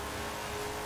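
A Ford GT40 Mark I vintage race car engine in Forza Horizon 4 drones steadily at moderate volume, a brief continuous motor hum with a slight rasp.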